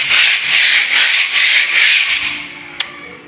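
Hardened epoxy resin flooring being sanded by hand, a steady rhythmic scratchy rubbing in repeated strokes, close and loud, fading out near the end with a brief sharp knock.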